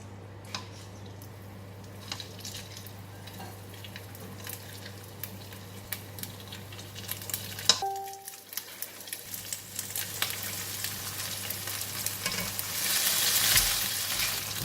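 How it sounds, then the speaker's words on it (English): Pork sizzles steadily in extra oil in a pan, a constant close crackle with scattered pops and a brief stir partway through. "I will put a little bit extra oil because I want to fry the meat"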